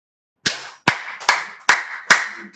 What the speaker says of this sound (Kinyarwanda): Amashyi nkubise 1 2 3 4 gutyo.